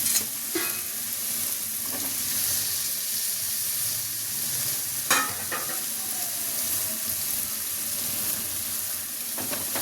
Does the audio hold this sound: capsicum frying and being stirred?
yes